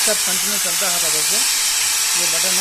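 A Bosch GSB 501 electric drill runs with a steady, smooth high whine and hiss throughout, while someone talks over it.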